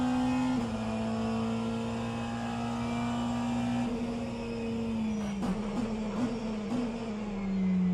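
A BMW race car in a virtual endurance racing game sweeps past with a sustained engine drone whose pitch dips slightly as it goes by, steady and fairly loud with no talk.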